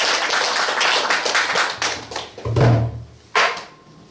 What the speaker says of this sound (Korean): 다시 한번 박수 주세요.